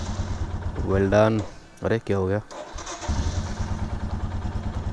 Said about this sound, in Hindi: आज जो है ना 15 दिन के बाद अपना बाइक जो है वो स्टार्ट होने वाला है